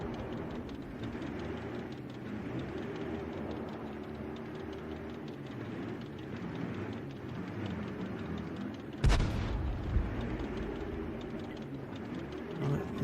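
An artillery shell from an M12 self-propelled gun in a tank video game lands as a single sharp, loud blast, with a smaller follow-up thud, against a constant low engine rumble.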